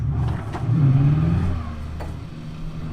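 Race car in Assetto Corsa sliding along the track at speed and scraping walls: a steady engine drone with a low, wavering pitch and a brief swell, continuous throughout without voices.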